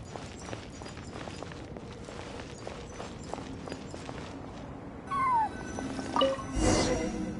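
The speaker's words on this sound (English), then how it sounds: "And so, I followed the cat's cries to find my way out." A cat cries in Genshin Impact during ruins exploration, a rising meow heard over soft rhythmic footsteps and ambient tones, followed by louder bursts near the end.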